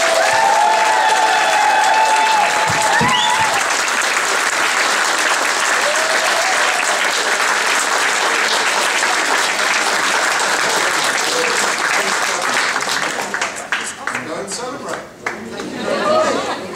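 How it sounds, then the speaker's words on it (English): A college graduation audience claps and cheers loudly and steadily, with crowd chatter and some laughter mixed in, before the applause thins out near the end. "Really big cheers."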